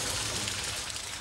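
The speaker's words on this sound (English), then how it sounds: "It's raining." Steady broadband hiss of rain falling inside an underground storm drain tunnel, a continuous wash of water noise close around, with no talk over it.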